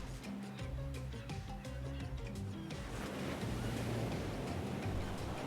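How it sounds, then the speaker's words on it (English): An old wooden ghost ship in a video game breaks up and sinks at sea, heard as a steady roar of surf and wind with a low musical drone beneath, continuous and fairly loud throughout. "You hear the distant shouting of sailors as the old wooden ghost ship breaks up and sinks into the water."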